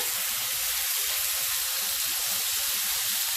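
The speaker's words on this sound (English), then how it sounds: "we have our hot wok here, and I'm just gonna go in with this meat. Try to get it all seared." Beef sears in a hot wok with a steady, loud, close sizzle and hiss that holds evenly throughout, with no voices.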